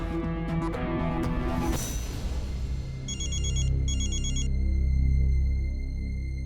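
A phone ringtone in a Hindi drama scene: a repeating electronic trilling ring pattern that starts after a brief musical passage, fairly loud over a low background drone, with no talking.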